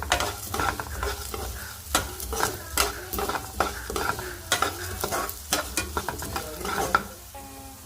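Ingredients for coriander chutney fry lightly in oil, giving a busy sizzle under frequent clattering scrapes and taps of a spoon stirring in the pan. The sound is close and irregular and stays free of speech.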